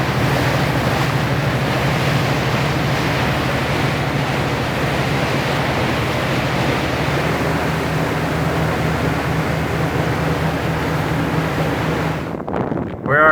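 Steady rushing water and wind noise throughout, with a low engine drone underneath, riding a boat over choppy water into the Icefjord in Greenland; the sound cuts off abruptly near the end.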